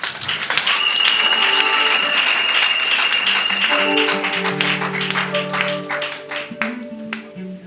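A church wedding congregation bursts into applause, steady dense clapping that fills the room, while organ or keyboard notes enter partway through and continue under the thinning claps.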